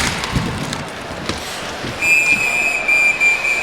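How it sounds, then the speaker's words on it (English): A referee's whistle sounds at an NCAA men's ice hockey Frozen Four semifinal between Wisconsin and North Dakota, a sharp high tone coming in partway through over arena crowd noise, with a second short blast near the end. "Whistle blows"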